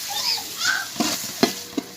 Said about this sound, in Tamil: தக்காளி சேர்த்ததுக்கப்புறம் நல்லா மிக்ஸ் பண்ணிக்கோங்க.